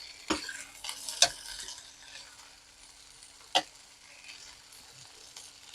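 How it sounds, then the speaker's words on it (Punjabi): Cut okra frying in a pan: a soft, steady sizzle with occasional sharp clinks and scrapes of a spoon stirring against the metal, fairly quiet and close. "ਭਿੰਡੀਆਂ ਨੂੰ ਆਪਾਂ ਪਹਿਲਾਂ ਭੁੰਨ ਲਾਂਗੇ ਚੰਗੀ ਤਰ੍ਹਾਂ ਫਰਾਈ ਕਰ ਲਾਂਗੇ"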